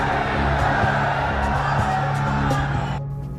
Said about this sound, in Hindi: शपथ ग्रहण समारोह तालियों की गड़गड़ाहट से गूंज उठा।